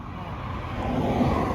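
Cars moving on a nearby road give a quiet, steady low traffic rumble that swells slightly toward the end, with a hint of voices in the background.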